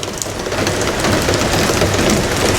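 Steady, dense rain pours down continuously, a broad hiss of drops drumming on surfaces with a low rumble underneath.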